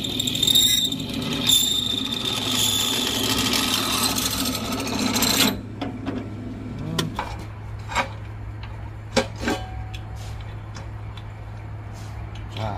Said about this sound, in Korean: 요거를 또 구멍을 뚫어 보겠습니다